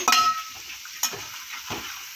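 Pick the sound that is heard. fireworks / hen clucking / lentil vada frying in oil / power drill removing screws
lentil vada frying in oil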